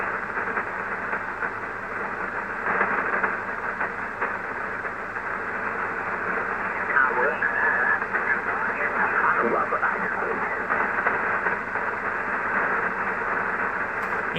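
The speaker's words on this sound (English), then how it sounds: "It sounds like a jammer." A Kenwood 599 twins amateur radio, tested after repairs, gives off a steady, jammer-like broadband hiss and rushing noise. It stays loud and constant throughout, with faint warbling tones drifting through it.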